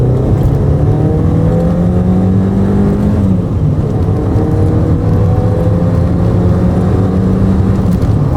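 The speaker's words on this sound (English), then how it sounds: "it revs cleanly and strongly all the way across the revs" An R53 Mini Cooper S engine revving steadily with a smooth, strong drone that dips briefly and climbs again, loud and close, with no talking.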